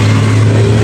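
A motorcycle engine at a campsite in Cayabu, Tanay, Rizal, running loud and close with a steady, throaty mid-pitched drone through a brief rev.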